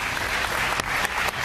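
Ironic applause from a studio audience on a Serbian late-night show rings out as steady, dense clapping close by, with a few louder sharp claps standing out.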